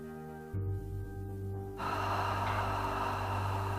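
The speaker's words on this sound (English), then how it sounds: "on the exhale, open the mouth and say ha, H-A, like you're fogging a mirror." Yoga breathing exercise: a long, breathy open-mouthed "ha" exhale, like fogging a mirror, rising into a loud steady rush of air that carries on to the end, close and without speech.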